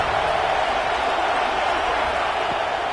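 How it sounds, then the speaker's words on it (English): A packed football stadium crowd roars loudly and continuously to help the defense during a South Carolina versus Georgia game, a dense, unbroken wall of noise. "Listen to this crowd just shaking the girders of this place trying to help their defense."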